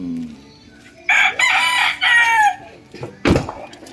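Roosters crow loudly and close by in a farm chicken coop, two drawn-out calls followed by a shorter squawk, with a few softer clucks around them.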